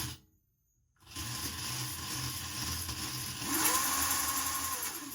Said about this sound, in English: It's very loud. I would expect this to be quieter. I guess chain drives are just loud.